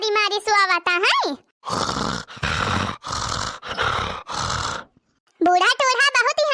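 A person snores in a run of five or so rough, rasping breaths in close succession, loud and near, with a voice talking just before and right after.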